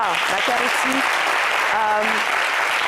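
A studio audience on a French-language TV show applauds the writer Macaire Etty, a steady wash of clapping under a host's voice.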